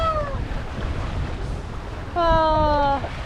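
Steady wind and water rush at sea aboard a 28ft sailboat cruising at about 5.5 knots, a constant close roar with two drawn-out, high, tonal cries, like a cat meowing, rising over it near the start and end.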